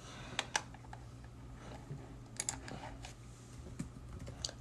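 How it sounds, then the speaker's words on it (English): Computer keyboard typing during a live astrology chat stream: sparse, irregular soft clicks and short bursts over a steady low room hum. "here I am just like typing away"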